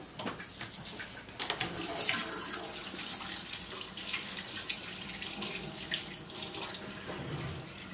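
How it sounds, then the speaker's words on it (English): Hands being washed under a running tap at a sink, a steady close rush of water with splashing shifts as the hands move through the stream, continuing throughout without speech. "So first thing you want to do is wash your hands."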